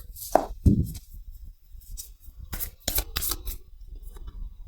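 Tarot cards being shuffled and picked, several soft close riffles, flicks and taps in short irregular bursts against a quiet room.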